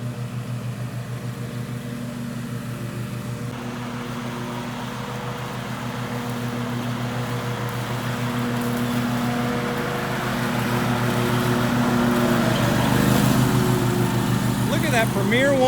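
A lawn mower engine drones steadily while a woman mows a yard, a constant low motor hum that grows slightly louder over time, with a person talking over it.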